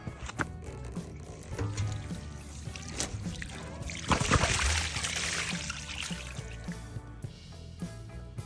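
Old waterless wash product emptied out of a sprayer, a soft steady pour and trickle of liquid with a brief stronger gush midway, fairly faint and close, no talk.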